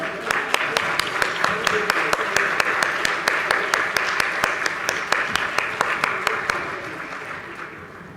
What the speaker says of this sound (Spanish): les pido recibamos con un fuerte aplauso a los y las integrantes del presidio